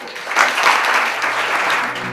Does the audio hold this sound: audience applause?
yes